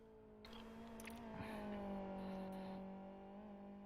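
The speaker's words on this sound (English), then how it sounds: "I'm hearing a lot of car noises, but not actually seeing any cars" Car engines drone in the Live For Speed racing game, a steady sustained engine tone rising slightly in pitch before settling, with faint tire noise, moderately quiet and with no talking.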